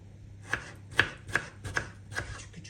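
Ripe tomatoes chopped with a knife on a board, five crisp evenly spaced thuds close by in a quiet kitchen, with no talking.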